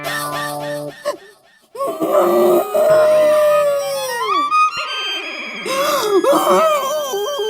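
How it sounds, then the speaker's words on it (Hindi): A woman cries loudly in a long, wailing, moaning stretch with rising and falling sobs, filling most of the clip after a brief quiet gap. "वो तो मैं हूँ, मेरे रोने की आवाज है।"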